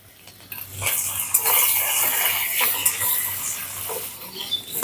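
Ginger paste and chopped green chilli spices fry in a pan with a steady broadband sizzle, broken by a few sharp scrapes and clinks of stirring, fairly loud and close, with no voices.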